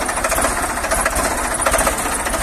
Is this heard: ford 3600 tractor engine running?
yes